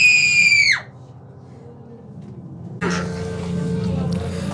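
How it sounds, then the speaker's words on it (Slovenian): A person screams loudly for under a second on a count, a high sustained cry that falls off sharply, then a quieter stretch before a busy mix of voices and room noise. "3, 4, zdaj boš zakričal, okej?"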